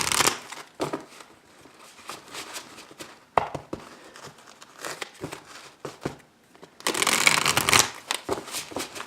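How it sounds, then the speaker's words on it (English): A deck of cards being shuffled by hand nearby, with bursts of riffling and soft flicking that come and go, ending in a louder, sustained riffle. "I'm going to actually pull some cards right out of the deck."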